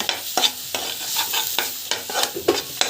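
Spices being sautéed in a pan for paneer butter masala, soft frying sizzle under brisk, uneven scraping and stirring strokes of a spoon, close and clear with no voices.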